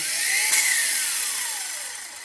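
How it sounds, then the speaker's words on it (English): An Ozito 18V cordless angle grinder with soft start, a high whine that swells as the motor spins up, then holds and begins to fade, heard close with no voices. "it's a soft start, so there's no kick when it starts"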